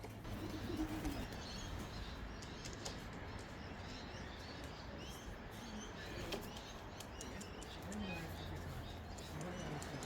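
Racing pigeons returning from a race in Australia coo and flutter around a loft roof, wingbeats and soft calls fairly faint beneath an outdoor background, with someone talking at times.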